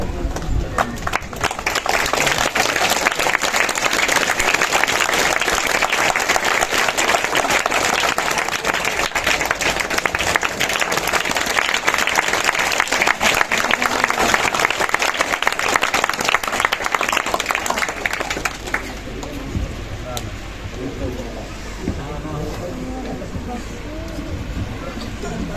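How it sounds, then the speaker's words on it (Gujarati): Loud, sustained crowd applause at a village honouring of saints at a Bahucharaji temple, dense and continuous, then thinning into scattered claps and murmuring voices toward the end. "તાળીના ગગડાટથી વધાવશે"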